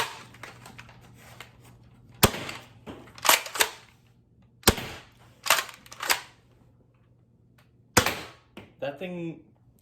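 An Adventure Force Nexus Pro foam dart blaster fires indoors in a series of sharp close snaps and clacks, several shots spaced a second or two apart, with someone talking briefly near the end.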